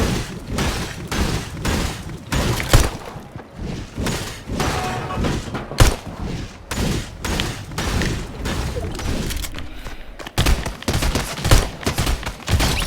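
Gunfire in the video game Fortnite: repeated loud shots and heavy thuds in irregular bursts throughout, dense and close, with other game noise between volleys.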